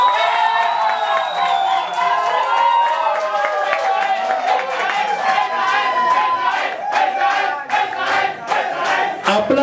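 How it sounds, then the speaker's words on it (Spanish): Audience at a year-end beauty contest cheering and clapping for a contestant, a dense, loud crowd roar with shouts and voices layered over steady clapping throughout. "Aplausos para la señorita Sauna."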